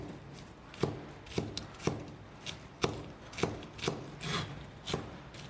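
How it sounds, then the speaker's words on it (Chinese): A knife chops scallion greens into small rings, about a dozen crisp, close strokes landing at an uneven pace on a cutting surface, with no talking. "葱叶给它切成葱花。"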